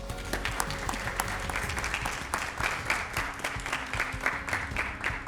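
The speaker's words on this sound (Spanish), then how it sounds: "Saludamos a Sandra Garrido y Juan Luis Nas con un fuerte aplauso." A school debate tournament audience gives a strong round of applause to the expert jurors, dense continuous clapping from many hands in an indoor hall, fairly loud and steady for several seconds.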